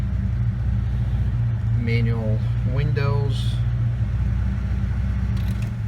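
A 1980 Lada 2101 Zhiguli engine idles smoothly in a steady low hum throughout, with someone briefly talking over it.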